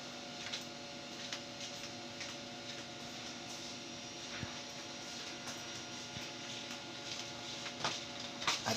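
A printer whirs and hums steadily while printing a Windows test page, with repeated mechanical ticks and clicks as paper feeds through, close and moderate in volume.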